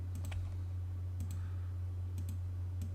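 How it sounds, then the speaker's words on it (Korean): Computer mouse clicking while drawing lines in AutoCAD, a few sharp quick clicks in small clusters spread through the clip over a steady low electrical hum, close and fairly quiet. "자 밑에 쪽을 한번 클릭 클릭해 볼게요."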